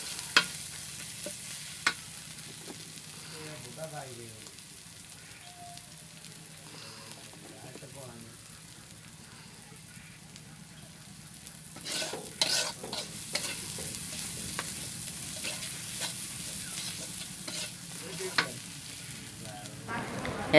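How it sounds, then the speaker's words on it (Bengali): Spice mix frying in a pan for a taro stem dish cooked with stinging catfish, a steady close sizzle joined by scraping stirs that grow louder and busier midway, with faint talk in the background. "এখন মা এই যে মশলাটা ভেজে নিচ্ছে, এর ভিতরে আবার মানকচুর ডাউগাটা দিবে।"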